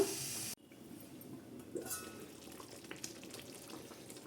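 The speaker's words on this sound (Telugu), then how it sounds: "చక్కగా ఉడుకుతుందన్నమాట." Gutti Vankaya masala curry, a stuffed brinjal gravy, simmers in a pan with a steady low sizzle and bubbling after a brief louder burst at the start, continuous and close.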